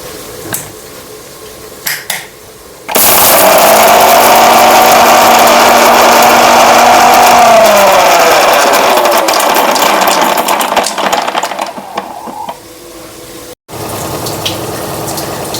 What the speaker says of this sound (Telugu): ఇదిగోండి మిక్సీ పట్టుకుంటున్నాను.